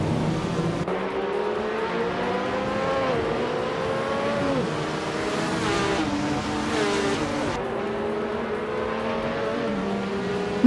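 Race cars in a racing video game accelerate hard, with engine pitch climbing and shifting through gears in repeated rising sweeps, loud and close, with a faint tire squeal and no talking.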